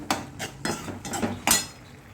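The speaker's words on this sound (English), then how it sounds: "I'm going to stir it, so that stir and mix it well" A spoon stirs mixed vegetable stew (kootu) with sambhar powder in a pot, giving about five distinct clinking scrapes against the pot in an uneven rhythm, close and fairly loud.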